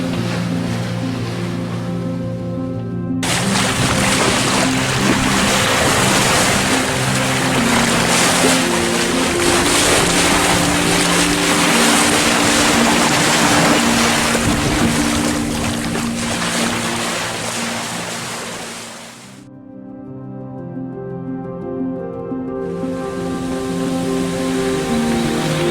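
A monohull sailboat on a broad reach, port tack, near the island of Vieques, with waves and water rushing steadily against the hull and wind noise over a low drone, briefly dipping quieter before resuming.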